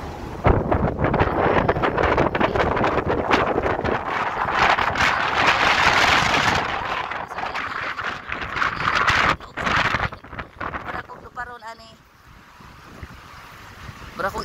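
Strong gusts buffet a phone microphone outdoors, a loud continuous rumbling roar that swells and drops over about fourteen seconds, with a brief voice and handling noise near the end.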